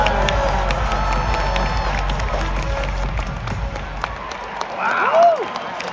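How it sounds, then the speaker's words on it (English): A rodeo arena crowd at the NFR in Las Vegas cheering and clapping as a barrel racer heads for the finish, a broad roar of many voices that swells near the end, with an announcer talking over it. "Cheer them to the line."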